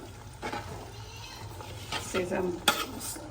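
Pickle ingredients are stirred and roasted in a pan on a gas stove, giving soft scraping strokes and a light sizzle under quiet room noise, with a brief clatter near the end.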